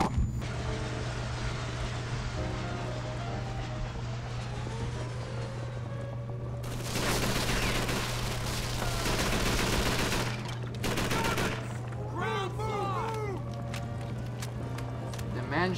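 Bursts of gunfire and machine-gun fire from a World War II battle at the Mayenne bridge in Call of Duty 3, loud and dense with heavier volleys midway, over a steady low engine drone and shouting voices.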